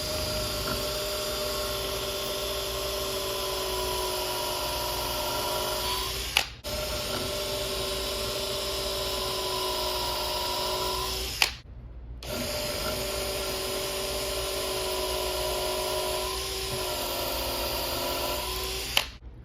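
A power drill with a 3/8 inch Kobalt XTR twist bit whines steadily as it bores, running in three long continuous bursts separated by short stops, close and fairly loud, with no talking.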